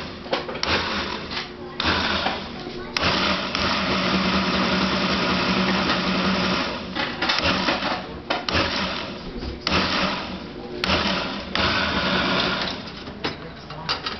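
A Breville BBL600 ikon blender grinding mint, a steady motor whir that pulses and surges in waves, with a voice talking over it.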